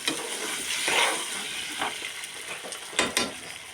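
Butter sizzles and scrapes as it is stirred in a hot pan alongside olives, giving a steady frying hiss broken by a few louder stirring scrapes, with no talking.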